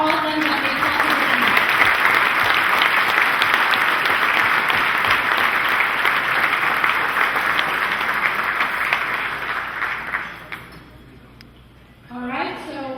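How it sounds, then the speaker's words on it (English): A large audience applauds steadily and loudly for around ten seconds before the clapping fades away, then a voice begins speaking afterward. "Please let's give our round of applause to all of them that they talked about."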